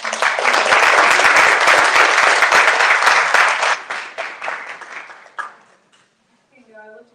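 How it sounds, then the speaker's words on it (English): Student audience applause for a vice presidential council at a student government debate, loud dense clapping for several seconds that thins into scattered claps and dies away, followed by a short spoken voice at the end. "Give them a round of applause."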